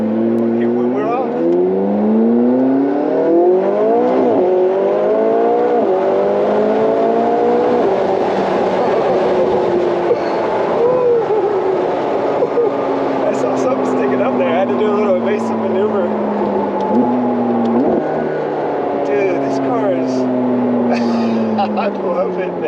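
A McLaren 675LT accelerates hard from a standstill with traction control off, its engine note climbing steadily through the gears. Quick dual-clutch shifts drop the pitch each time, loud and close from inside the cabin for over twenty seconds.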